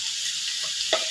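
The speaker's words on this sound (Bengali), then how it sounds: "বন্ধুরা, আমার গাঁঠিগুলো এইভাবে লাল লাল করে ভেজে নিচ্ছি" Gathia snacks frying in hot oil until reddish, giving a steady continuous sizzle with a brief louder crackle near the end, close by with no talking.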